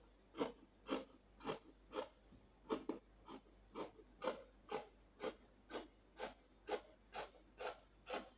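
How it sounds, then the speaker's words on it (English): Scissors cutting through fabric for a dress collar on a gypsy dress, with about a dozen regular, close rasping snips in a steady rhythm and no talking. "So I'll go ahead and cut out the collar."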